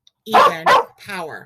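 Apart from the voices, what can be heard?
dog barking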